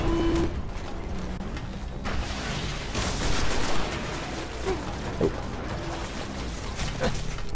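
Gunfire in the video game Destiny crackles in rapid mechanical bursts and clicks amid a busy, noisy battle background, with occasional sharper shots and beeps scattered through.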